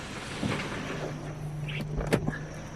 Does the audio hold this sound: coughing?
no